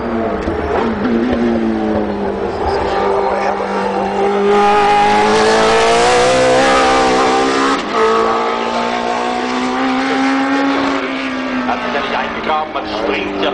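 A Group C endurance race car roars past with a rising and falling engine note, loud and sustained, while a commentator talks over it throughout.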